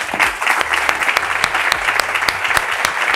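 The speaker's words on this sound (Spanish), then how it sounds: "un aplausazo para César" An audience claps enthusiastically for a participant at an entrepreneur mentoring event, a dense burst of many hands that carries on loudly for several seconds with no speech over it.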